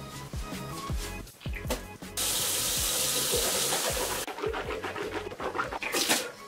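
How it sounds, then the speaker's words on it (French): Tap water gushes steadily for about two seconds in the middle, set between quieter splashing and handling sounds while someone rinses their mouth after using a black teeth-whitening product. "Rincez votre bouche abondamment avec de l'eau."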